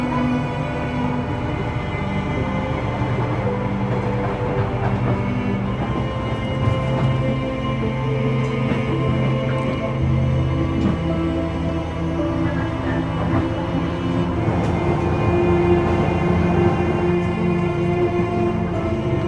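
Steady, continuous rumble and hum of a train riding through Japan's snowy countryside toward Nagano, with layered droning tones and faint rattles throughout, no voices.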